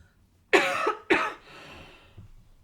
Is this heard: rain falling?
no